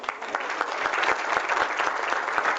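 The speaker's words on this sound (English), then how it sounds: "how about another big round of applause for our poet?" A crowd claps steadily for a poet at a lecture, a dense patter of many hands at moderate distance, continuous from start to finish with no voices standing out.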